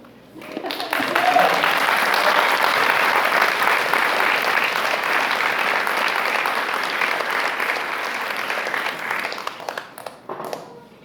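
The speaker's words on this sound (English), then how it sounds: "clap for them." Audience applause for a community summer chorus performance, a loud sustained burst of many hands clapping that swells in, holds for about nine seconds, then thins out to a few scattered claps.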